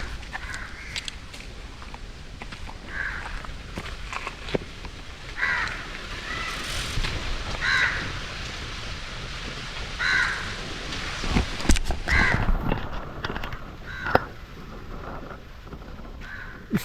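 Crows caw repeatedly at a bird sanctuary, harsh calls coming every couple of seconds at moderate distance over soft wind and outdoor rustle.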